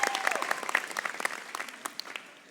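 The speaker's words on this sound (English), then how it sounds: "Another round of applause." A college commencement audience at Henry Ford College applauds with a scattered, moderately distant clapping that thins out toward the end.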